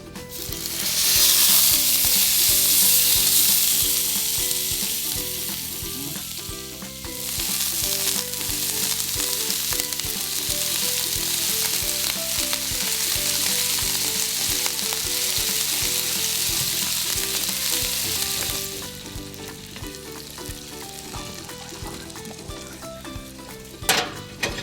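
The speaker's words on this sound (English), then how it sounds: "let's go ahead and get our fish into the pan." Snapper fillets sizzle loudly in a preheated indoor grill pan. The bright hiss swells at first, eases to a steady crackle and rises again near the end, with no talking.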